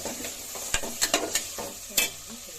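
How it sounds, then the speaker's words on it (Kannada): Green peas fry in a hot oil tempering for a tomato bath, giving a steady close sizzle. Several sharp scrapes of a spoon against the pan cut through it, with no talking. "ಚೆನ್ನಾಗಿ ಫ್ರೈ ಆಗಲಿ"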